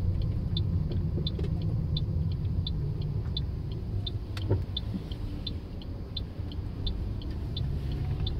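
Steady low road rumble and tyre noise inside a 2016 Toyota Yaris Hybrid cruising quietly on cruise control along a salted, snow-free road in Sweden, with a faint regular ticking of the indicator throughout.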